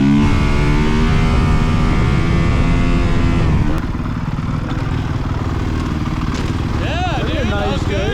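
A 450cc motocross dirt bike engine revving loud and close at a motocross track, its rising and falling whine and buzz running continuously with people talking over it.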